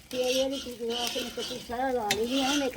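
Ingredients for baoli are stirred and roasted in a pan, giving a soft background hiss with light scraping, heard beneath a person talking throughout.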